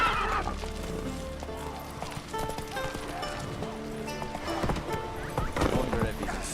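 Roach, a horse in the Witcher 3 video game, neighs and whinnies while hooves clip-clop steadily nearby, with a few brief rustles and a voice speaking over part of it.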